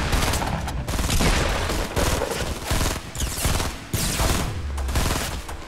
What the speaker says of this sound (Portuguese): Tô levando tiro de outro lado aqui.